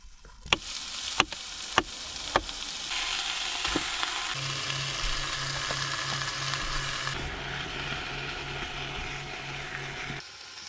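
Bacon and sausages sizzle steadily in a pan during winter car camping on a secluded coast, with a few sharp clicks and taps early on over a constant, fairly quiet crackling hiss.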